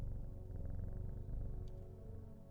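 A cat in the video game Strange Horticulture purrs after being petted, a steady low rumbling purr that runs continuously and fairly close, with no talking over it.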